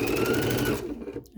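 A sewing machine stitching fabric rings in a fast, close, steady whir that winds down and stops near the end.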